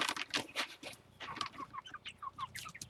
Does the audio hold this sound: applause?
no